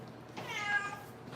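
A blue-eyed cat lets out one short, rising-falling meow, close but fairly soft, in an indoor kitchen setting.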